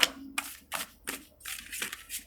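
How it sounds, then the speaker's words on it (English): A deck of tarot cards is shuffled by hand, giving about six quiet, quick papery riffles and flutters in an uneven rhythm, close by with no talk. "one last little shuffle and then I will cut the deck."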